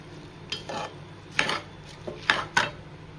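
Mutton biryani masala being mixed in a pot, close and fairly loud, with several sharp scrapes and clanks of a spoon against the metal pot over a low sizzle, irregularly spaced and no talking.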